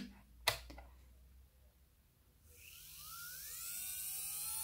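A sharp click, then a quiet pause before a small electric nail drill, a Marathon Champion 3, whirs up and keeps running with a thin high whine.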